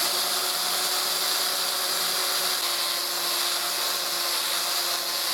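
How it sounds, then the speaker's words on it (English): Power drill boring holes in sheet metal for a window screen over a trash can, a steady close high-pitched whine and grind held continuously with no pauses and no talk. "I'm drilling it over a trash can, so it just goes straight in the trash"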